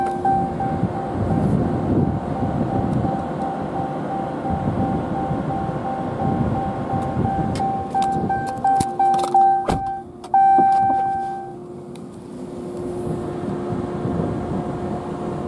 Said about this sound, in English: So right now the intercooler is being cooled down by the AC.